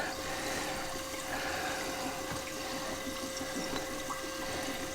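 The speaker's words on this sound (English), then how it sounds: "here's the water coming through. It's pushing out the air" Water rushes steadily into a reef tank sump reactor on a Red Sea Reefer 350, forcing out trapped air with a continuous low hiss and gurgle at close range.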